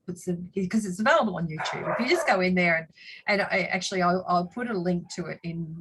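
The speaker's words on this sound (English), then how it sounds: "I'm so sorry about my dogs" Pet dogs bark intermittently in the background beneath continuous close talking by a speaker.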